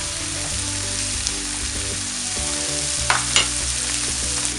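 Capsicum sizzles and fries in a pan as part of a paella base, a steady close crackling hiss with a few brief stirring clatters, no speech.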